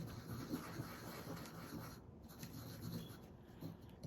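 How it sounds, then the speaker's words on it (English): Coffee grounds rubbed back and forth into light wood for a kolrosing carving, a faint, steady scratchy rasp with continuous texture and no voices. "Then I just take this coffee and I grind it in to rub it into here."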